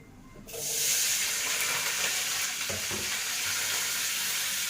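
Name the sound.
chicken frying in a pan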